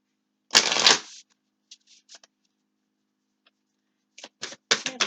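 Tarot cards being shuffled before a reading, one loud close riffle followed by a few soft card taps and slides, then another burst of shuffling.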